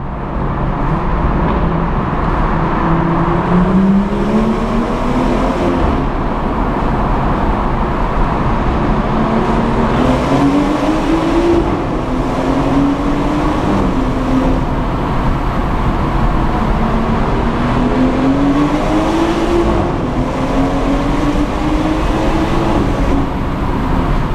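A BMW M240i engine drones steadily and loudly in a tunnel, its pitch climbing and falling repeatedly as it accelerates through the gears.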